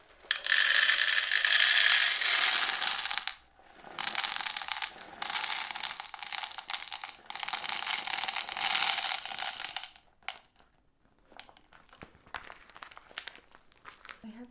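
Pearls pour into a holder that serves as a pin holder on a vanity, a dense bright clatter and rattle in several bursts over about ten seconds, then scattered small clicks, close and with no talk.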